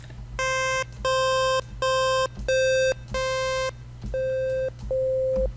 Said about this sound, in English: what is very unique to Synth is called the tri-saw